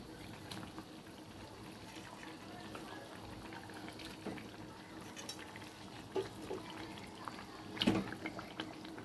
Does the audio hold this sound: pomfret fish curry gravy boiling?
yes